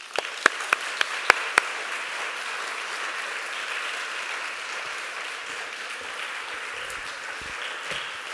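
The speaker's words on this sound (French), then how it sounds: "je vous demande d'accueillir sur scène, sous un tonnerre d'applaudissements, Madame Pamela Oenenyako." An audience at a conference on Black characters in literature applauds with a steady wash of clapping for several seconds, opening with a few sharp, distinct claps.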